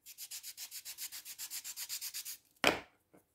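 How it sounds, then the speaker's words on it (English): A smudging tool is rubbed back and forth on ordinary sandpaper in about sixteen quick, even, close scratching strokes, followed by one louder knock and a faint tap. "If your smudging tool has got a bit dirty, just sand it off. Normal sandpaper will work."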